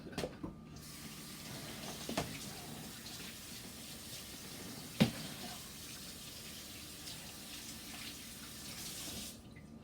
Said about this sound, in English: All right, I'll wash my hands here.